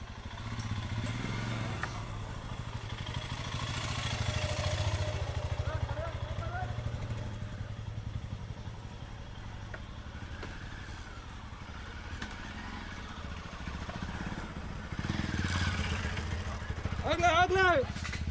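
A motorcycle travels a forest road near the Barkana Waterfalls viewpoint close to Agumbe. Its low engine drone runs under steady conversation and grows louder and rougher near the end as it comes close.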